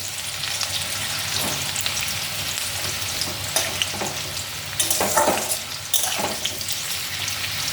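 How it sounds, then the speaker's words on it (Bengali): Cinnamon, cardamom and cloves frying in a pan, a continuous close sizzle with stirring scrapes and a few louder bursts partway through. "একটু ভাজা হোক।"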